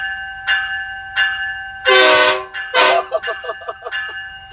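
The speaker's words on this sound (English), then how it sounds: "That e-bell. So we just flip this switch right here." An electronic bell on a 2019 Peterbilt 389 semi truck with a Cat 700 hp engine, sounding bright clanging dings, first spaced apart, then a loud burst, then a rapid run of repeated strikes, close and prominent.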